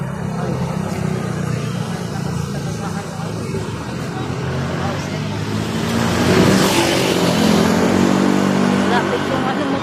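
A motorcycle passes close on a road beside people walking. Its engine swells loud over steady traffic rumble and then fades, with voices in the background.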